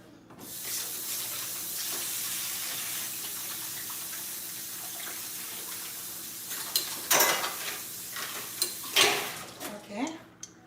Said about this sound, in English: Let me wash out my hands here.